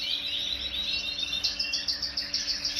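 Small breeding canary-type bird, very white in plumage, chirping and trilling in rapid repeated bursts, close and fairly loud, with a steady faint background hum and no talking.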